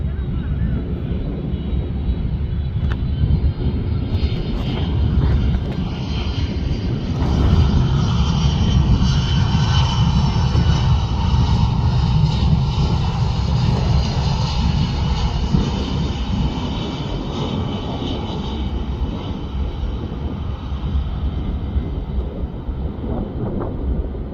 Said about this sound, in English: FedEx Boeing 767-300F. Flight 322 coming from MEM Memphis.